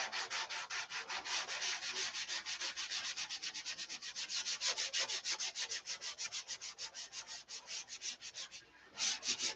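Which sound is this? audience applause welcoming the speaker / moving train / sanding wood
sanding wood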